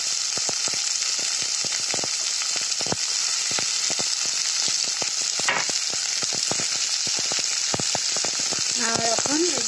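Chopped onion, tomato and peas frying in a pan give a loud, continuous close-up sizzle, dotted with frequent crackles and spatula scrapes. A brief voice surfaces near the end.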